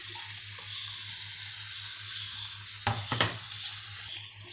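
Mango pieces drop into chili powder frying in oil for a kadumanga pickle, so a steady hiss jumps into a few sharp crackling bursts before settling back into sizzle.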